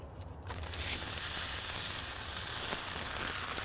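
Impossible Burger patty sizzling loudly in a nonstick-sprayed pan, a steady bright hiss that swells after a quieter first half-second and holds continuously to the end, with no voices.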